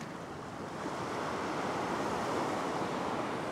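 Ocean surf rolling toward rocks on the shore, a broad continuous wash of wave noise that swells slightly louder midway, with no voices.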